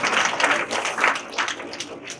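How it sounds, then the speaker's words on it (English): Students in a classroom session on growth mindset clap together, a lively burst of hand clapping in rippling waves, near and fairly loud, tapering slightly at the end. "a round of applause"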